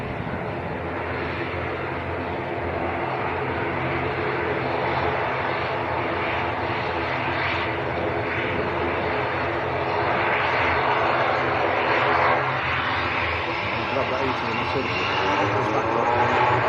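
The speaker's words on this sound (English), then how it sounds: "Aer Lingus going first. ATR 72 to Belfast." An Aer Lingus ATR 72 turboprop departs Manchester Airport for Belfast. Its engines give a loud, sustained roar that swells slightly near the end, and voices talk underneath throughout.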